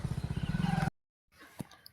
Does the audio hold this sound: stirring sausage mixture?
no